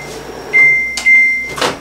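A microwave oven heats a bowl of soft tofu, giving off a steady electronic tone in the middle, set between short bursts of clatter and a brief rushing noise near the end.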